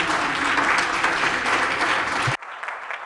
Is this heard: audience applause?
yes